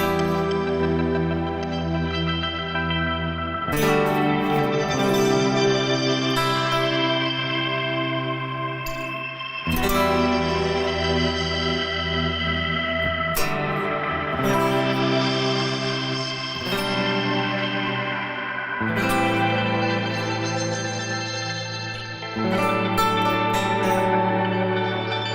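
Granular shimmer reverb from the Fragments effects plugin, sustained dense washes of layered tones that shift every few seconds, moving from clipped, sequence-like grains into massive swelling shimmer, loud and continuous with no talking.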